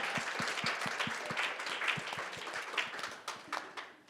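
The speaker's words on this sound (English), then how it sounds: "Let's have a round of applause" Audience applause at a chamber music conference event following a performance with a string quartet, a steady wash of many hands clapping, moderately loud and sustained before tapering off near the end.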